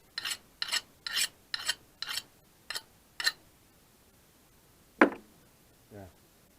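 Axe being sharpened on a coarse sharpening stone outdoors in the woods: seven rhythmic rasping strokes in a row, then a pause, one sharper scrape and a final softer rub, fairly close and alone.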